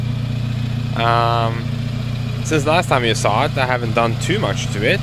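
Saab 9000 2.3 CSE engine running roughly, with a steady, close mid-pitched idle rumble. Someone speaks over it.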